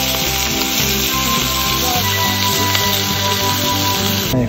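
A steak, frozen before cooking, sizzles on a hot pan at a snowy Eastern Sierra camp, a loud, even hiss running steadily close by alongside a low rhythmic mechanical hum, with no voices.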